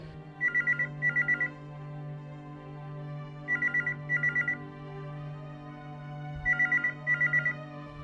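An old-style telephone bell rings in three double bursts, loud and close, over a low steady hum.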